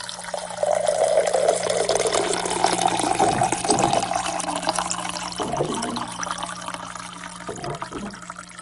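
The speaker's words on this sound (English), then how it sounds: "We'll be right back after this short break about water pouring into a glass" Water pours steadily into a glass, a close, continuous trickle whose tone rises gently as it fills, then tapers off with a few softer splashes.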